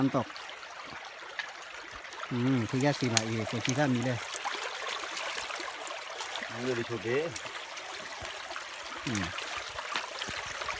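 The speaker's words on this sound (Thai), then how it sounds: "น้ำตก" A steady rushing waterfall in a forest area of Karen State, heard as continuous broadband water noise throughout, with people speaking intermittently over it.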